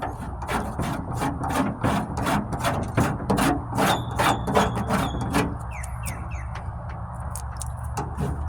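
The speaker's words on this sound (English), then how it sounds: "This is nothing more than a cheese grater file" A cheese grater style file rasps across the rusty tailgate of a 1998 Ford Ranger in close, rapid, repeated scraping strokes, with no voices over it.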